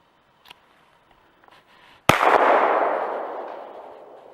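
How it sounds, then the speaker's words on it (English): A single loud gunshot cracks at a shooting range, followed by a long fading ring and reverberation, after a few quiet handling clicks. "I'm going to shoot the first one with you"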